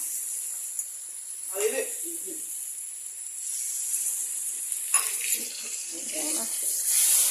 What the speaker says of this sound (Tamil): இப்போ இதை கொஞ்சமாக தண்ணி ஊற்றிக்குவோம்